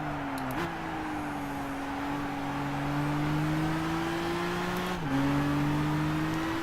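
Race car engine in the Gran Turismo racing game, held at a steady high drone with strong harmonics that bounces off the rev limiter twice, with brief pitch jumps and stutters near the start and again partway through.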